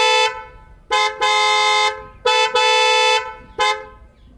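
Original Hyundai Creta car horns fitted on a Brezza, blaring loudly up close in several long and short honks with brief gaps, a bright multi-tone blast with no talking over it.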